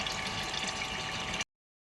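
A thin stream of drinking water, river water piped through a filter, pours steadily into a container with a constant close hiss that stops abruptly.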